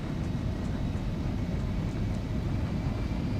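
Embraer E170 jet engines spooling up on a takeoff roll in the X-Plane 12 flight simulator, a steady, loud broadband roar with deep low rumble that holds constant throughout.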